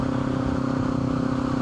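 A Kawasaki Ninja 500 motorcycle with an upgraded exhaust idles close by, giving a loud, steady low engine rumble with an even throb and no voices.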